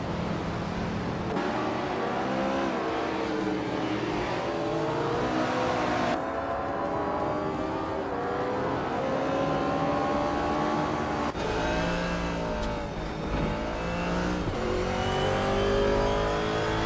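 Race cars in a racing game accelerate nonstop, engines rising and falling in pitch through repeated gear shifts, loud and continuous with no pauses.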